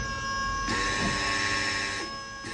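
A Tesla-swapped Mercedes W123 300CD's brake vacuum pump whirs steadily for over a second as the brakes are pressed, buzzing loudly, then cuts off, leaving a constant background hum.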